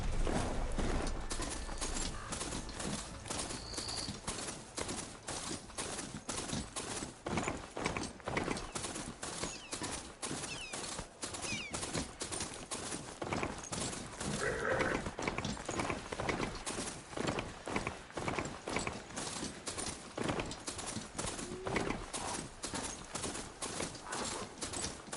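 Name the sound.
riding mount's hoofbeats in video game Horizon Forbidden West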